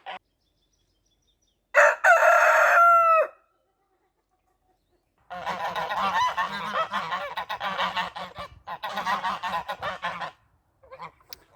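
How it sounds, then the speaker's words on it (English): American Buff geese honk in loud, overlapping bursts, a short flurry first, then a pause, then a longer sustained chorus of the flock with brief gaps. "as you can tell from the sound, today's video is about geese"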